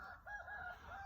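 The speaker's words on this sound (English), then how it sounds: "I'm gonna let the chickens out. They're wanting to come out." A rooster crows on a cold homestead, one short nearby crow with a rising and falling tone over a faint low background.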